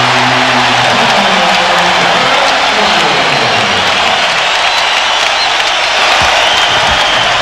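Basketball arena crowd at a Lakers home playoff game against the Blazers, roaring and applauding steadily after a Lakers three-pointer, a dense, loud wash of cheers that holds throughout.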